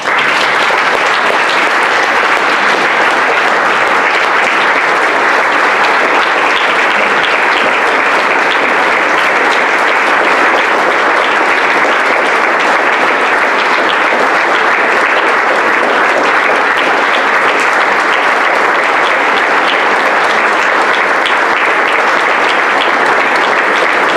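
A standing audience applauds a retiring district court judge at a career celebration ceremony, loud sustained clapping holding steady for over twenty seconds without talk.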